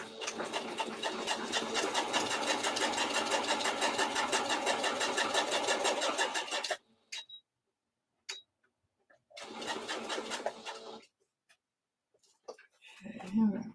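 A sewing machine stitches fabric in a fast, steady mechanical whir for about seven seconds, then stops. A second shorter burst of sewing follows, and a person talks softly in the pauses.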